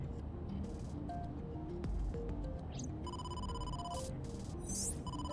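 A phone rings with a call from the boss in AI: The Somnium Files, giving repeated electronic ringing tones and beeps over background game music and faint ambience.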